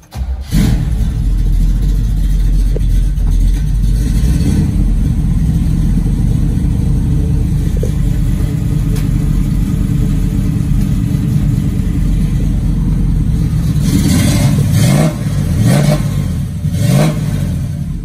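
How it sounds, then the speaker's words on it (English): A carbureted car engine with a lumpy cam cranks and catches, then runs at a loud, steady rumbling idle close by, with several short revs near the end and no talking. "we'll just go ahead and start it up. Let you hear it run real quick here."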